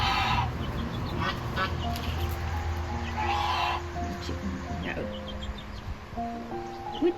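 Young Cinnamon Queen pullets settle onto a roost, giving quiet chirps and soft clucks over a low background hum, close and faint.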